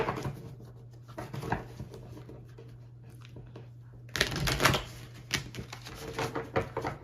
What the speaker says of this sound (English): This deck is very awkward to shuffle, but we can do it.